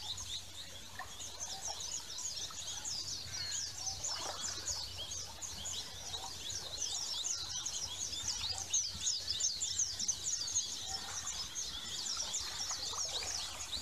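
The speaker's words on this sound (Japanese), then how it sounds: "鳥もね、たくさん鳴いて、すごい生き物たちに囲まれてる感じだね。" A dense chorus of birds sings at dawn on Kondoi Beach, Taketomi Island, Okinawa, with many overlapping high chirps and trills continuing steadily throughout over a calm, faint background.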